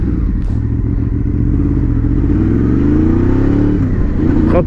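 Motorcycle engine heard while riding hard: loud, close, continuous engine drone with a rising, sweeping pitch as it revs up, then a brief drop near the end, with no speech.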